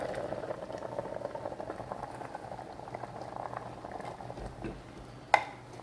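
Mango pulissery curry boils steadily in a pot after the ground coconut paste and a spoon of ghee go in, a continuous bubbling simmer with a sharp utensil clink near the end.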